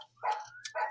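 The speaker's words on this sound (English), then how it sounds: "Sorry about the barking, guys." A dog barks in two short, close bursts, a loud yelp followed by a second bark a moment later, with a faint low hum underneath.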